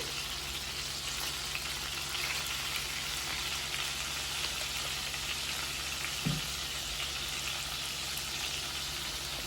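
Tomato pachadi cooking in a pan while a ladle stirs it, with a steady soft sizzle throughout and a single brief scrape or knock partway through.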